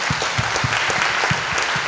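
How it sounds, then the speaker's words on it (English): An audience at a parish candidate forum applauds the candidates, a brief dense burst of clapping running continuously with no voices over it. "Give them another round of applause."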